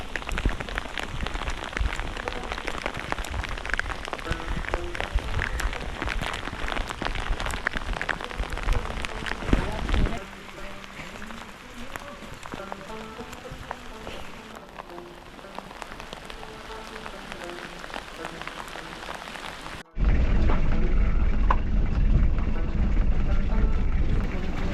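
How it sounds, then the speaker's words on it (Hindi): Heavy rain pours on the mountain route between Bahrain and Gabin Jabba, a loud continuous hiss and drumming with a muffled voice under it, the downpour shifting in texture and swelling louder near the end. "बारिश रुकने का नाम नहीं ले रही"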